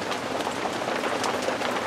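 Steady rain falls on a wet, miserable day outdoors near a tarp, a continuous close hiss of drops pattering on surfaces with no pauses or voices.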